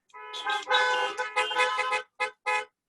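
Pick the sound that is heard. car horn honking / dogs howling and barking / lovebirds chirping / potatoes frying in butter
car horn honking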